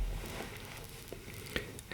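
A vinyl crackle audio effect: soft, dense crackle and pops like a worn record play on their own, with a few sharper clicks scattered throughout.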